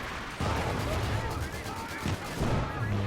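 Rapid bursts of gunfire from infantry support guns in Company of Heroes 2 pound away at a machine-gun position, dense overlapping shots and explosions filling a busy battle soundscape.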